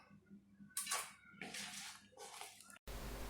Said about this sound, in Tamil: திரும்பவும் நல்ல தண்ணியில் ஒரு முறை வாஷ் பண்ணி எடுத்து வச்சுக்கோங்க